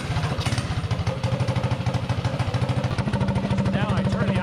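A mini bike's small engine runs steadily after carburetor tuning, a fast, even, putting chatter close by throughout.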